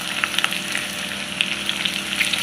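Chopped onion and green chillies hiss and crackle in hot oil for a brinjal curry, giving a steady, close sizzle with scattered sharp pops throughout.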